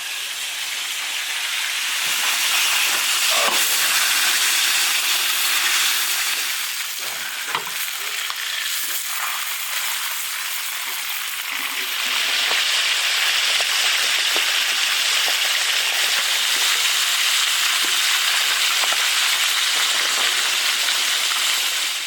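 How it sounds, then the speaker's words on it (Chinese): Silver carp pan-fries in a large iron wok, giving a steady, loud broadband sizzle throughout with faint scraping and stirring clicks, the hiss swelling a little in the second half. "鱼要煎到两面金黄，这样能去除腥味。"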